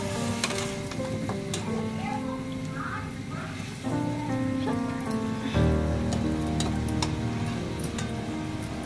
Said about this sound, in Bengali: এখানে দিয়ে দেবো আমি একটু ম্যাগি সস। এটাকে আমি হাই হিটে রান্না করে নেব।